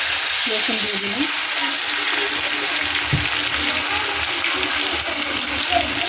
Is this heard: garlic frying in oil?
yes